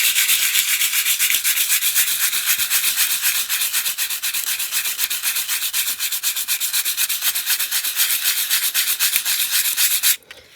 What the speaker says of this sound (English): This is just some regular old sandpaper.